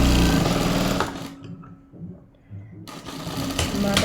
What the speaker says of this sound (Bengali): আপনার এখানে কিন্তু সেলাই মারবে, আপনি এভাবে রাউন্ড করে ঘুরে